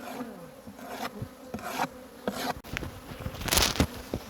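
Honey bees buzz busily close by during a cutout from an owl box, with irregular bursts of louder droning and scattered knocks and rustles.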